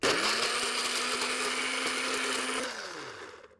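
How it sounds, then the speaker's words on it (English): A blender grinds dried pumpkin into powder, a loud steady whirring roar that runs for about three seconds, then winds down as the motor slows. "we're just going to put everything into a blender."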